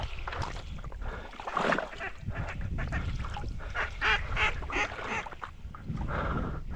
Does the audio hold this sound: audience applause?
no